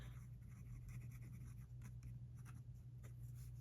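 A TWSBI 580 Iris fountain pen with a Pendleton custom nib writes on paper that gives noticeable feedback. Faint, continuous scratchy strokes run close to the mic over a low, steady hum.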